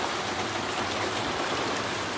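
Dense, steady rushing of heavy typhoon rain, a continuous loud wash of water with no pauses and no voices.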